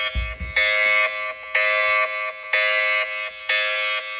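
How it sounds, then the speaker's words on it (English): A homemade tornado siren sounding through its tube: a steady, shrill electronic-like tone pulsing on and off about once a second, moderately loud and close, with a couple of soft knocks at the start. "can even hear it through the siren tube"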